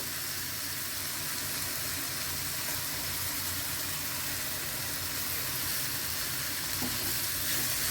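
Spices and jaggery sautéing in a hot pan give a steady, even sizzle that runs unbroken throughout, close and fairly soft, with faint stirring underneath and no talking.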